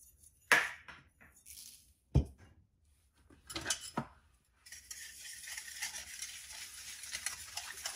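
Eggs, oil and sugar being mixed in a bowl: a few sharp clinks of a utensil against the bowl, then a steady, close, rhythmic whisking hiss for the last few seconds, with no voices.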